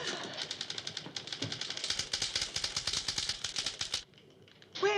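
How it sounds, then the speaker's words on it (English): Rapid, dense rattle of typewriter keys struck at high speed in a typing class, loud and continuous for about four seconds before stopping abruptly, followed by a brief different sound. "Where did you ever learn to type like that?"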